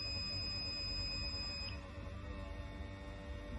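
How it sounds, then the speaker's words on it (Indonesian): A buzzer on an ultrasonic distance sensor project sounds as a steady high electronic tone over a constant hum, then cuts off partway through while the low hum continues. "dan buzzer juga ikut menyala"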